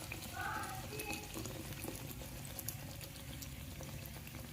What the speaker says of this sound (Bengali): নিয়ে কম আঁচে মালপোয়াগুলো ছাড়তে হবে।